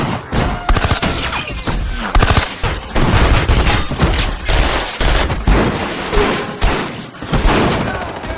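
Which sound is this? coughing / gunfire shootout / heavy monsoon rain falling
gunfire shootout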